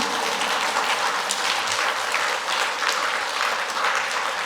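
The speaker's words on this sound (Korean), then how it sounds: "박수도 딱 시기에 맞춰서 해야지." A church congregation applauding during a Sunday worship service, sustained dense clapping from many hands that fills the room evenly from start to finish.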